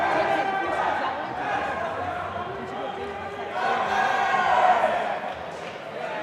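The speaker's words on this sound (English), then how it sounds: "Dark Matters coming out with a great cheer, pump themselves up after this overtime." The Dark Matters team lets out a rousing cheer together as overtime begins, loud group shouts and chatter from a crowd in a large echoing venue, swelling midway with an announcer talking over it.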